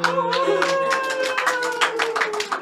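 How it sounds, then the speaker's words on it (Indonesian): Audience clapping at an Indonesian stand-up comedy show, a patter of hands heard over a sustained musical or tonal background, moderately loud and continuous for a few seconds. "Boleh minta tepuk tangan."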